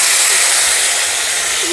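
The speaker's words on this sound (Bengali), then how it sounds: "এবার বেগুনগুলোকে ভেজে দেবো।" Eggplant slices fry in hot oil with cumin seeds for a Bengali fish curry, giving a loud, steady, hissing sizzle with no break.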